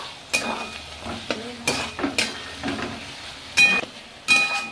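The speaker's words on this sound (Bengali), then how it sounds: "পোস্তটা ভালো করে কষিয়ে নিচ্ছি, আলু 5 মিনিট ভালো করে কষিয়ে নেব।" Potatoes coated in poppy seed paste are stirred and fried in a wok, with repeated scraping strokes and metallic clinks of the spatula over a soft sizzle, in irregular bursts at close range; no voices.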